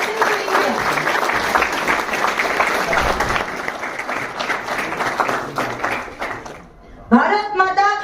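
Sustained applause from an audience at a ceremony launching a range of UAVs for Indian defence, dense steady clapping for several seconds that dips briefly before a burst of voices and renewed noise near the end.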